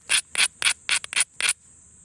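Stone edge being beveled during flint knapping, seven short, crisp scraping strokes in quick succession, close and clear against a quiet background.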